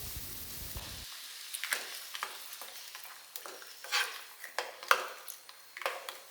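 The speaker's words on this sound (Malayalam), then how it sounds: "വെളിച്ചെണ്ണയിൽ ഇതാ കടുക് കറിവേപ്പില വറ്റൽമുളക് ഇത് നമ്മൾ താളിച്ചിതാ" Mustard seeds, curry leaves and dried red chillies temper in hot coconut oil, with sharp, scattered pops and crackles over a faint sizzle after a brief louder start.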